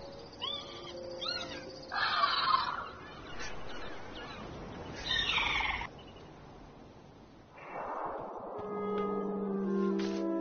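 A cartoonish bird in the Broken Age adventure game honking in several separate bursts, loud nasal calls spaced a few seconds apart over a soft ambient game background, no speech.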